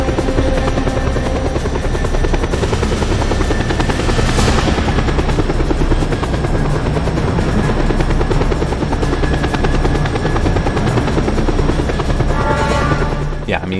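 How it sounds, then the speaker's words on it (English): The helicopter in the video game Just Cause 2 drones loud and close, its rotors chopping continuously for the whole stretch, with a brief swell partway through. "I got the helicopter. It's not the fastest, but it'll get me there pretty quickly."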